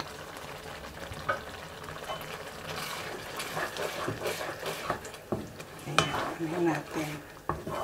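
Fish fillet with ginger and spring onion stirred gently in a pan, soft scraping and sizzling with liquid bubbling, a voice speaking briefly over the cooking.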